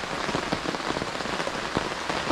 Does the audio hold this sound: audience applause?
no